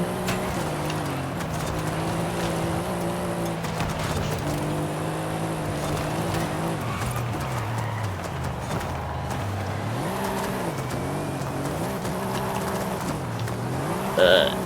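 A Mercedes-AMG GT Black Series races in the video game Forza Horizon 5, its engine droning steadily and loudly throughout with shifting pitch as it accelerates and shifts, plus a brief sharper burst near the end.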